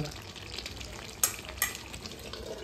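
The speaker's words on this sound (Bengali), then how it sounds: "এখন কষাতে হবে, শুধু কষাতে হবে।" Chicken sautéed and stirred in a covered pan without oil, a steady close frying sizzle with two sharp lid or spoon clatters partway through.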